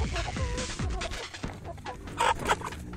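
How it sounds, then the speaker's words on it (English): Meat chickens on a Cape Breton Island farm clucking and squawking in a busy, overlapping flurry, close and fairly loud, with a few sharper calls toward the end. "Hey, chickens!"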